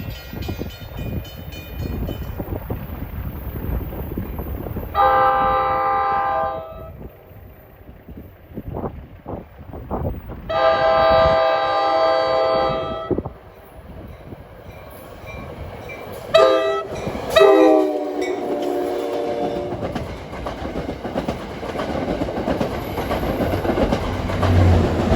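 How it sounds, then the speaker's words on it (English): An NJ Transit commuter train bound from Suffern to Hoboken, pushed by a GP40-type locomotive, approaches with a rumbling roll and clickety-clack, sounding several loud sustained horn blasts, the last ones in quick short bursts. "approaching at 12:16 is train 11:14 en route from Suffern to Hoboken. And it sounds like he's got a Jeep shoving on him."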